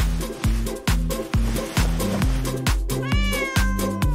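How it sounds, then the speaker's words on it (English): A pregnant street cat meows over and over, close and clear, in a steady rhythm of roughly two cries per second. Each meow is short and insistent, and no one speaks. "Let's distract the cat."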